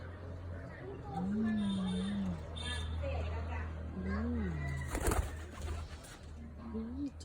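Pet pigeons coo nearby in several low, rolling phrases spaced a few seconds apart, with a person's voice heard around them and a brief rustling burst partway through.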